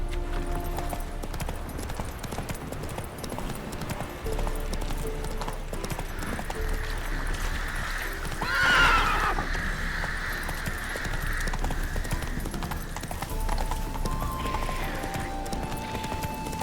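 Roach, a horse in The Witcher 3, gallops with steady rhythmic hoofbeats throughout, a brief neigh rising midway over the continuous clatter of hooves.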